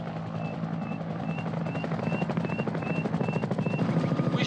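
A helicopter in an action film chops with a fast, rhythmic rotor beat at moderate distance, steady and growing slightly louder throughout, with a few thin high tones over it.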